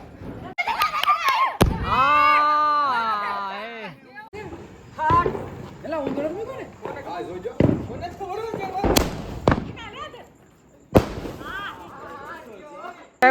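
Diwali firecrackers burst at a family gathering at a sister's home, with several sharp, loud bangs scattered among lively chatter, shouts and a long sustained vocal tone.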